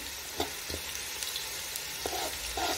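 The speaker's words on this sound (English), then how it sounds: "Just to saute. I'm not going to make them brown" Onions sautéing gently in a pan give a continuous soft sizzle, with occasional stirring knocks and scrapes close by, no one talking.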